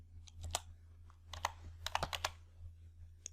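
Typing on a computer keyboard while entering a formula in MS Excel: a close, sparse run of light key clicks in irregular bursts, with no voice.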